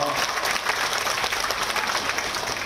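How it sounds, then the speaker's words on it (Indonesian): Steady, dense applause from a crowd fills the whole stretch, loud and continuous with no pauses. "tepuk tangan buat Pak Dev Laksono."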